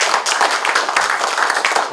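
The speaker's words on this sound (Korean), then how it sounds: "큰 박수 한번 부탁드립니다" Audience applause at an indoor anniversary ceremony, a dense, steady roar of many hands clapping close by for about two seconds.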